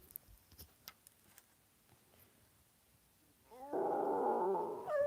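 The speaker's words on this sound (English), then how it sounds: "Dog's going mad now." Dog growling and snarling furiously, erupting loud and close after a few seconds of quiet with faint clicks, then continuing as a sustained rough growl.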